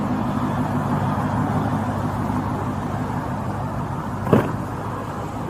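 A car sits idling at a roadside traffic stop with its engine left running, giving a steady low rumble throughout with a brief clunk near the end.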